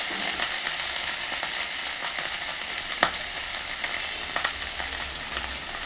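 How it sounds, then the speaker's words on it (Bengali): Cauliflower and potato pieces fry in oil in a pan with a steady, dense sizzle and crackle, a few louder pops and stirring clicks rising above it, close up and with no voices. "সবজি দিয়ে দিলাম সামান্য পরিমাণ লবণ ফুলকপি আলুটা যাতে একসঙ্গে সুন্দরভাবে ভেজে যাবে"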